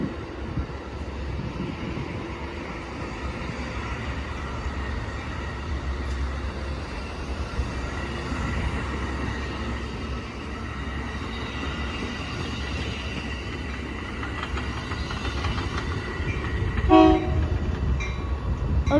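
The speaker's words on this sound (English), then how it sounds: "the train's actually departing now" A delayed passenger train with a sightseer lounge car departs Glenview station. A steady rumble and rolling wheel noise continue throughout, with a brief horn blast near the end.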